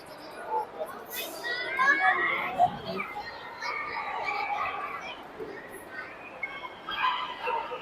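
Dogs bark and yip at a crowded dog fair in a supermarket setting, intermittent and moderately distant, mixed with children playing and people talking around them.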